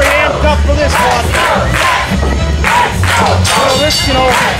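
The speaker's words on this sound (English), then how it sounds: "This crowd is very amped up for this one." An amped-up arena crowd at a singles wrestling match cheers and chants in rhythmic waves, loud and dense, rising and falling with each repeated call.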